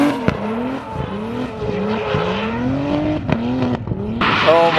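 Tires squeal loudly on a drifting big-turbo BMW E46 M3 with a 2JZ engine, long wavering screeches rising and falling in repeated arcs, close and dominant, with brief sharp bursts between.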